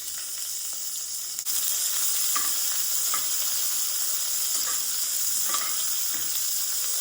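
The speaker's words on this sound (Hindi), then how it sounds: "प्याज डालकर इसे मैं 5 मिनट तक फ्राई करूँगी।" Onions hiss and sizzle steadily in a pan over medium heat after green chilies have gone in, with a loud frying crackle throughout and a few soft stirring clicks.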